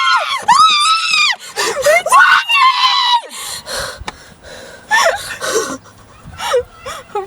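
A group of grown women scream in loud, repeated bursts, each high-pitched shriek breaking off into short gaps, with gasps and some speech mixed in among them.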